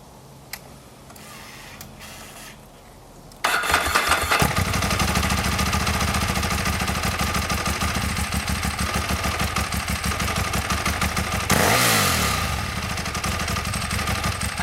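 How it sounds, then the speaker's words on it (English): A 2007 Ducati 1098 V-twin sport motorcycle engine starts and runs with a fast, loping mechanical pulse, loud and close, its pitch rising briefly as it revs before settling back. "It sounds like an engine's working."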